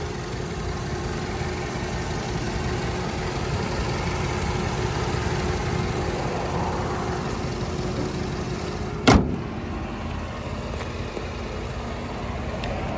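A 2013 Ford Flex 3.5-liter turbocharged EcoBoost engine idles steadily with a smooth, even hum and faint whine, recorded close up, broken by one sharp brief click or clunk near the end.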